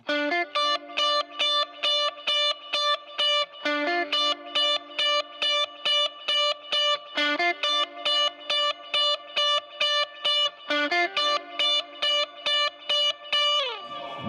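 An electric guitar, a Telecaster with its pickups out of phase for extra chime and reverb but no delay, plays a clean, bright rhythm part of repeated short chopped chords in a steady four-count pattern, alone and up close.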